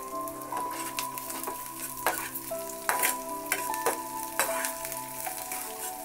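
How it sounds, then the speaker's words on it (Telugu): Steady frying sizzle with spices and onions crackling in hot oil for tempering majjiga charu, a spoon stirring and scraping the pan now and then, close up, no talking. "మనం తాలింపు ఎలా వేసుకుంటామో అలా వేసుకోవటమేనండి."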